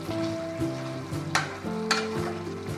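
Mutton karahi sizzles in oil in a pan as it is stirred, with a steady frying hiss, occasional scraping stirs and a faint tonal hum in the background.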